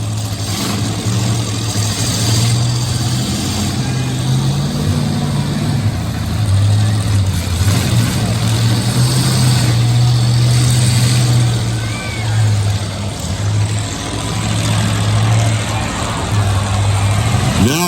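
V-8 demolition derby cars rumble and rev continuously around a fairground arena, a loud steady low engine drone with swelling acceleration, while an announcer talks over the noise.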